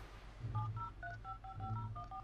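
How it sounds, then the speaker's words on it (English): Touch-tone beeps from a cell phone app dialing a number, a quick run of about a dozen paired DTMF tones in steady rhythm, close and clear over a low hum. "My cell phone app can dial the number from the tomes."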